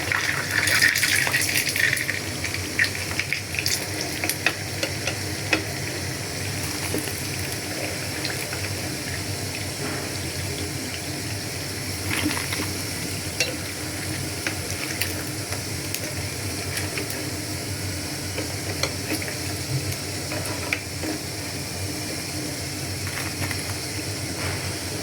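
Pitha rice cakes frying in hot oil as winter treats, a continuous bubbling sizzle with occasional clicks and scrapes of a utensil, steady and close for the whole stretch, louder at the start.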